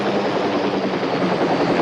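A loud, steady roar of a pink helicopter with a dense churning rotor and engine wash filling the whole stretch, close and continuous.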